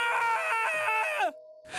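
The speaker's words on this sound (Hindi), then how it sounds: "तभी गैलरी के आखिरी सिरे से एक भयानक चीख गूंज उठी" A man's horrifying, drawn-out scream of agony in an animated horror story, loud and close, ending in a falling cry that breaks off abruptly.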